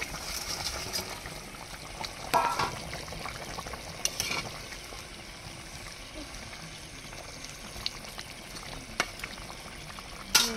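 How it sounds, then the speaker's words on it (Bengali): Fried fish pieces go into a boiling village-style fish curry, giving a soft bubbling simmer with scattered light splashes and clinks. Nobody speaks. "এবার ভেজে রাখা মাছগুলো দিয়ে দেব"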